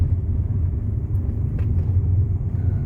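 A Mitsubishi Xpander descends a steep hill in low gear, its engine braking as a steady, deep, close rumble with no talk.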